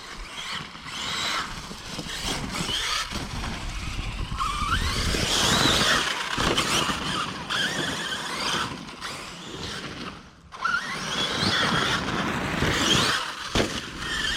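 An HPI Savage Flux XL 1/8 electric RC monster truck drives and turns in woods, its motor whining and tires scrubbing and squealing continuously throughout, fairly loud and close.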